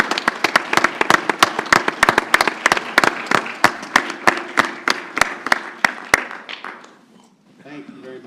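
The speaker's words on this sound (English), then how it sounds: "Let's give these young gentlemen a fine round of applause." A small group claps for a round of young gentlemen at a Texas city council meeting, sharp separate claps in a steady run for about six seconds before fading, followed by a brief voice.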